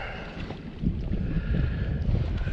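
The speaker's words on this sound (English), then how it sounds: "It's so windy" Gusty wind blowing over a riverbank during overcast weather, a steady low rumble of buffeting against the microphone, fairly loud and continuous with no talk.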